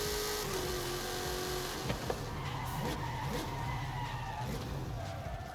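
A Koenigsegg One:1 in Forza Horizon 5 drones at a steady high engine pitch, with tires skidding briefly as it drives; no one talks.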